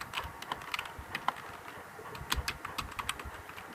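Code in the C language is typed on a computer keyboard, with irregular, crisp key clicks in short bursts and scattered single taps, close and fairly quiet, with no voices.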